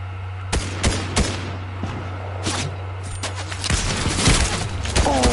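Gunfire in a Fortnite match, sharp isolated shots and short rapid bursts cracking at irregular intervals, loud and near, with a faint steady hum underneath.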